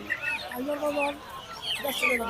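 Chickens cluck and squawk close by in short bursts at a poultry market in Tongi, with a noisy crowd murmuring in the background.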